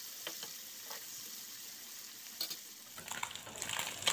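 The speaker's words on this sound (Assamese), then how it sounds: "আৰু এয়া মই মাছ ভাজি আছোঁ" Singhi catfish frying in a hot kadai gives a steady, soft sizzle with faint crackles, swelling into louder spattering toward the end, with no voices.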